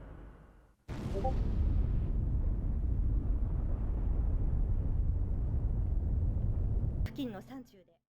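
A private jet explodes after being shot down in a fighter jet video game: a sudden loud boom opens into a long, heavy rumbling roar that fades out, ending with a short burst of bright electronic tones.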